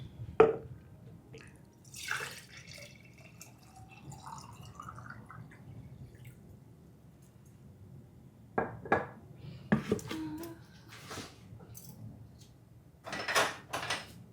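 Water drips and splashes from a pitcher being emptied in a home kitchen, with intermittent clinks of dishes and cutlery, brief bursts of pouring, and quiet stretches between them.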